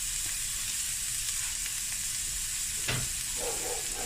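Chopped onion, garlic and red chili sizzle in a hot pan, a close, even hiss that holds for several seconds, broken by one brief sharp pop partway through.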